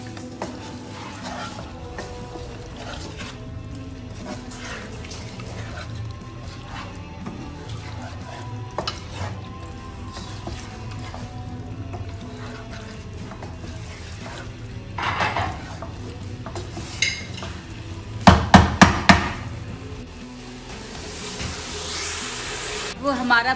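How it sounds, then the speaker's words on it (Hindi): Spoon stirring biryani masala and spices in a cooking pot, soft scraping under a steady kitchen background with a burst of louder clanks near the end. "अब इन चीज़ों को हम अच्छे से मिक्स कर लेंगे"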